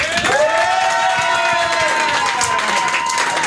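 A comedy show crowd cheers and applauds to vote for the comedians, a loud burst of whoops, shouts and clapping that holds for a few seconds, with rising whistles and yells over the din.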